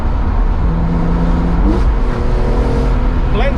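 A BMW E46 M3 engine with SMG gearbox revs up and down with quick throttle blips, rising and falling in pitch, loud and close throughout.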